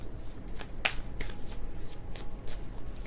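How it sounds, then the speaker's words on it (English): Tarot cards are shuffled by hand in quick, loose riffles and snaps, soft and close, with a few sharper flicks scattered through a quiet room. "That was kind of a sloppy shuffle"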